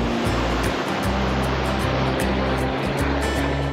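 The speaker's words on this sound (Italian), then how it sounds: "Il fiume Klondike è veramente molto rapido in questo periodo." The fast-flowing Klondike River rushes past a wooden bridge, a loud, continuous roar of water with a steady low rumble underneath.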